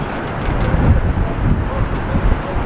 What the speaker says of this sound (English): Hopefully the wind won't sound so bad in my camera